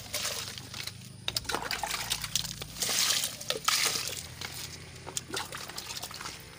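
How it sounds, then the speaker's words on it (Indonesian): Water poured from a hand scoop onto a guava plant, roughly three scoops, splashing and trickling in uneven bursts close by with soft background noise. "jambu dalharinya kita siram"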